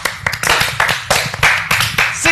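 A crowd of people clapping in loud, uneven bursts, close and dense, with bits of talk mixed in between the rounds of applause.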